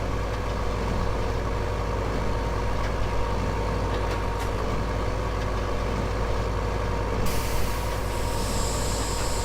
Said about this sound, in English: Compressed air blowing off the nodder